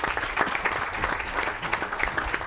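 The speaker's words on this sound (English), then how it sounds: "give him a round of applause" Applause from an audience at the Coliseum welcoming Major League Soccer commissioner Don Garber to a community conversation event, moderately loud, with sharp individual claps standing out in the crowd.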